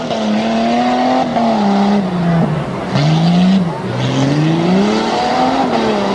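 Former Team Green pulling truck on the starting line at a Hagerstown pulling event, engine loud and near with a rising and falling revving pitch and several sharp throttle blips, no voices.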